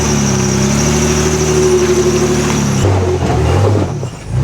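Nissan Patrol GU engine working as it crawls up a steep hill off-road, a loud low rumble with steady tone that shifts pitch partway as the load changes, then eases off near the end.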